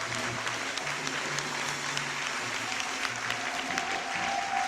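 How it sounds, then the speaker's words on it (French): A church congregation in Côte d'Ivoire applauds at a service, a steady mass of clapping from many hands throughout with a faint sustained tone beneath it. "Levons-nous et disons merci par acclamation au Dieu de la prophétesse Naomi"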